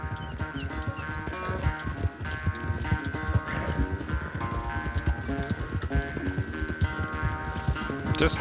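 Horse hooves during riding in Red Dead Redemption 2, a rapid continuous clip-clop gallop over a busy backdrop of game music, sustained and fairly close.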